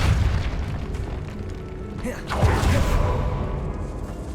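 A Depulso spell blast cast in a catacomb in Hogwarts Legacy, a single deep booming burst with a whoosh midway through, over low rumbling ambience and a voice.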